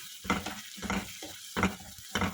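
Masala paste cooks in oil for a mushroom masala, heard as several separate bursts of sizzling and stirring scrapes between brief quiet gaps, close and fairly soft.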